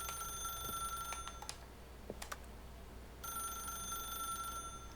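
A telephone rings in the video game The Stanley Parable: an electronic trilling ring that sounds, pauses and starts again, with some faint clicks and low background hum.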